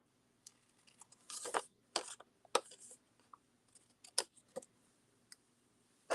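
Scissors trim a piece of stamped card for a handmade greeting card, giving a handful of short, crisp snips and rustles spaced irregularly, close and fairly quiet.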